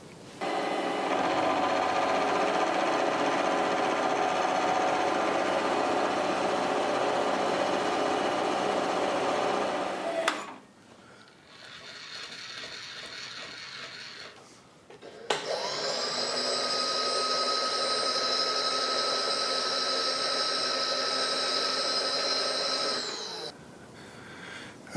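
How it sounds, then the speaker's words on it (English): A workshop bandsaw trims a wooden block to size, running as a steady, loud mechanical whine for about ten seconds, then after a brief quieter pause cutting again in a second long, even run. "I'll do that again with the bandsaw"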